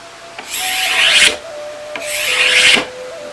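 A hand tool scraping along wood to remove material in long blending strokes, heard as two drawn-out, loud rasping passes close by with a short pause between them.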